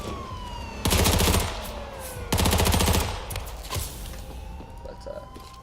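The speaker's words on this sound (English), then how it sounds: "the AK reset time is a lot faster, so you can shoot faster with it" Two short bursts of AK rifle fire in H1Z1, each a rapid stream of loud, closely spaced shots, separated by a brief pause, with faint game ambience and a thin tonal whine beneath.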